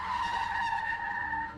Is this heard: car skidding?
yes